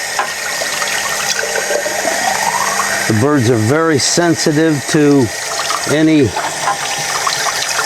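Tap water runs steadily while a hummingbird feeder is rinsed, a constant splashing hiss heard close up under a person talking through the middle of the stretch.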